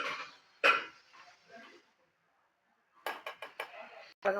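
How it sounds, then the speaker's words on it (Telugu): A spoon stirs prawns simmering in a pot of gongura curry, giving a few clanks on the pot near the start and a cluster of quick scraping knocks toward the end, with a quiet pause between. "ఒకసారి తిప్పుతానండి. రొయ్యలు బాగా ఉడుకుతున్నాయండి దీంట్లో"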